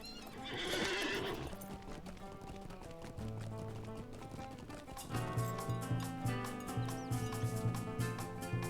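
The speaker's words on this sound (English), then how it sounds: "Come on, get on my horse." In a fantasy role-playing game, a horse neighs loudly, then gallops with rapid clip-clop hoofbeats while game music plays underneath, with no talk.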